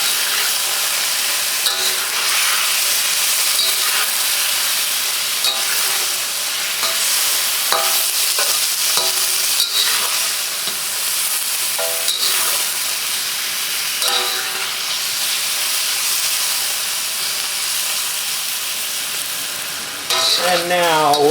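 Partially frozen chicken frying in a wok over moderately high heat, a loud continuous sizzle and crackle with occasional scrapes of a utensil, close up throughout.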